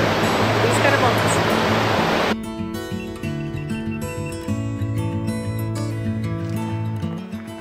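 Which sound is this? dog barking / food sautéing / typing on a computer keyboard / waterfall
waterfall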